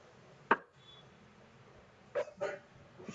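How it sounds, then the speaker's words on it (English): A dog gives a single sharp bark, then after a pause two or three more quick barks and a softer yip, fairly faint against a quiet room background. "Then he barked at the reflection."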